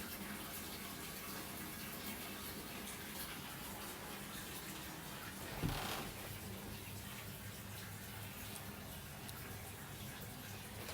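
Hot water runs from a tap in a steady, faint hiss that stays even throughout, with a brief soft knock near the middle and no talking.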